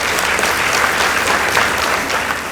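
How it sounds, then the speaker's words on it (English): Audience applause at a school debate, a dense, steady burst of clapping from a crowd, loud and continuous throughout. "Let's give them a round of applause."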